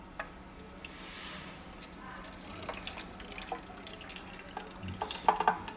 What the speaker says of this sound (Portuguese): vamos colocar a água aqui assim